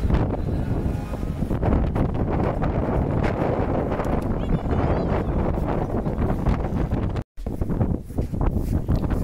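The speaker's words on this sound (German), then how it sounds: "Ihr könnt euch wirklich nicht vorstellen, wie windig es hier war" Strong coastal wind in Norway buffets the microphone in heavy, roaring gusts, with a brief drop-out near the end before the blustering resumes.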